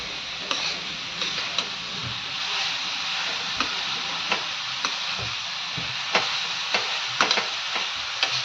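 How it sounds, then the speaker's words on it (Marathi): Jaggery modak filling being stirred and roasted in a pan, a soft steady sizzle with scattered light scraping clicks of the spoon throughout, fairly quiet and close with no talk. "आता हे व्यवस्थित एकसारखं सारा परतून घ्यायचं एकसारखं होईपर्यंत छान असं मिक्स करूयात"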